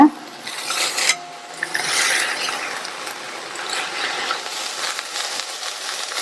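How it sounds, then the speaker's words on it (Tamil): Drumstick leaves cooking in an open pan are stirred with a spoon, giving continuous soft rasping and scraping strokes with a few sharper scrapes near the start. "வெந்துட்டு இருக்கும்போது அப்பப்போ இந்த மாதிரி கிண்டி கொடுங்க."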